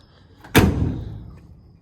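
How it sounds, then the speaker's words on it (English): A single heavy door of an old 1974 International 150 pickup truck slams shut nearby, a solid metallic thud with a short ringing decay. "Doors still work good."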